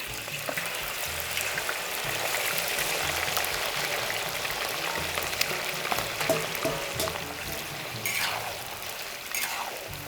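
Turkey meat stir-frying in rendered turkey fat, a continuous crackling sizzle with faint scraping and stirring noises, fairly close and steady.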